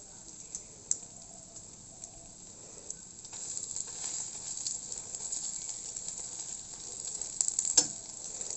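An egg frying with coriander leaves in a pan gives a faint, steady crackling sizzle that grows slightly busier midway, with a few small clicks and one sharper tap near the end.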